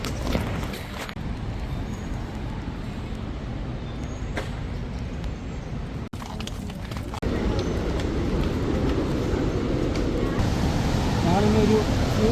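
The Athirappilly waterfall roars as a broad, constant rushing wash of falling water, steady and fairly loud, with people talking over it and the roar swelling stronger in the second half.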